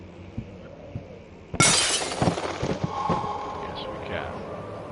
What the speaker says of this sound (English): Break the glass.